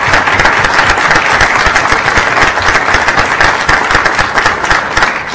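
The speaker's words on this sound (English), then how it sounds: "Give you guys a round of applause." Sustained, dense applause from a board of education meeting audience honoring parents, a steady loud wash of many hands clapping throughout with no pause.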